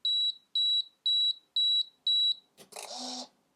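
Self-timer beeps from a Ricoh TF900 camera: five evenly spaced, high, clean electronic tones about half a second apart, followed by a quick mechanical shutter clunk and whir, close and alone.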